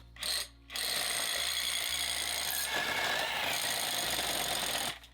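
A drill bit grinds into stone while pre-drilling for a foundation screw for a wooden deck, a harsh, steady, buzzing whine running close and loud for several seconds after a brief opening burst, with no talk.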